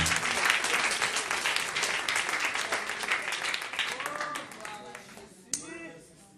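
A church congregation claps and applauds steadily, fading out toward the end, with a few voices calling out underneath.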